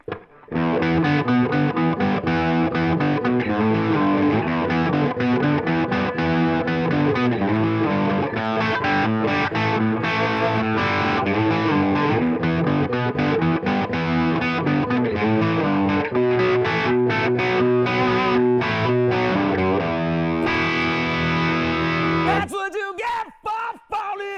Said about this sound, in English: I pluck it with these minus a pick because it gets that plucky sound like this